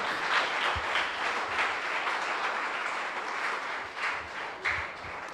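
A crowd applauding steadily, a dense wash of clapping that swells and dips slightly over a few seconds, with no voices.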